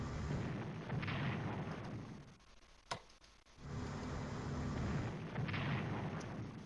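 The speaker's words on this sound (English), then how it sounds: "So we'll bring our big battleships down to bombard." Battleships bombard in the WWII strategy game Strategic Command, heard as loud, continuous booming, rumbling barrages that drop away briefly around a single sharp crack, then resume at full strength.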